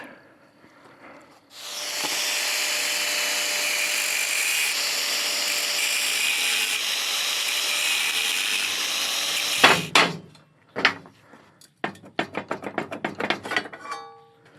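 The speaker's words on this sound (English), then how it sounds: "So I've just removed those 2 spot welds now." A power tool drills out spot welds on seat frames for an Iveco 4x4 overlander, a steady hissing grind for about eight seconds, then stops, followed by a few sharp metallic knocks and clatter.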